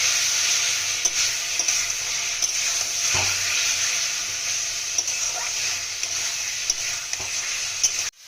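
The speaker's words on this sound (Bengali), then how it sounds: "আলুগুলো মশলার সঙ্গে একটু কষিয়ে নেব" Potatoes sauté with spices and tomato in a pan for a rohu fish red curry, giving a steady, close sizzle broken by light scrapes and clicks of a stirring spoon throughout, with no talking.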